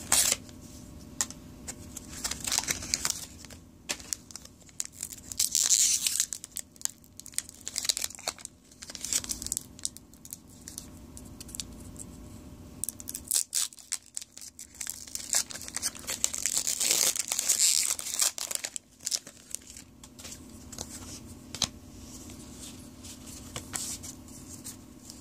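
Pokémon XY Evolutions card packs torn open and handled, with continuous crinkling of foil wrappers, sharper bursts of tearing, and soft shuffling of cards, close and fairly quiet.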